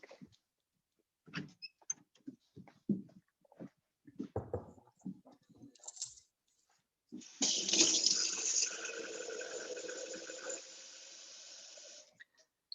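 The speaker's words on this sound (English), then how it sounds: "Let me just fill up some water" Water from a tap gushes steadily into a container for about five seconds, a close hissing rush that follows scattered handling clatter and shuffling.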